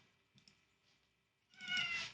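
A pet cat meows at a door, asking to be let in, with a louder cry near the end after quieter shuffling sounds.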